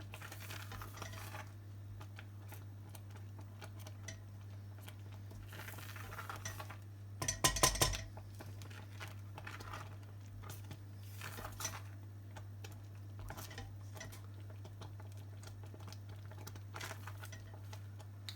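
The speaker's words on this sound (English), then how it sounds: "Add the ground almonds and stir through." A spoon stirs ground almonds through Punjabi-style rice kheer in a pot, making soft scraping and light clinks, with one louder clatter partway through, over a steady low hum.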